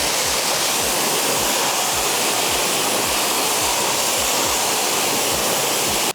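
Water spray rinses the wheels during a vehicle wash, making a loud, steady, close-up rushing hiss that holds without a break for the whole stretch, with no voices.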